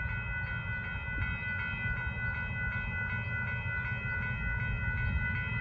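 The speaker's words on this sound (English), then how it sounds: "Here comes the Union Pacific train here." A northbound Union Pacific grain train rumbles steadily past at Dittmar Road in Austin, Texas, with a deep low roar, metallic ringing tones and faint rhythmic clacking, continuous and fairly close.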